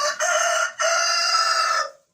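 A rooster crows inside a chicken coop, a loud, close, strained call broken by a brief gap into two long sustained phrases, then silence. No one speaks.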